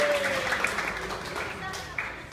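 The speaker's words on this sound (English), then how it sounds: "Let's give Kisel a round of applause." Applause at a town hall meeting for a participant, a room of clapping that stays fairly steady, with voices talking over it.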